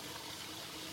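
Water poured into a pan of Pakistani-style chicken curry, a brief steady rushing splash heard close up and alone.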